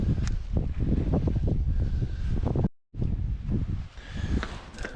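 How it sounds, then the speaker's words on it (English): Strong coastal wind in Scotland buffets the microphone in heavy, rumbling bursts, with a brief dropout midway before the blustery roar resumes. "And it is super windy"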